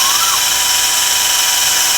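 A power drill bores a hole through a plastic bottle, giving a steady, loud, high-pitched whine that holds unbroken for the full two seconds with no speech.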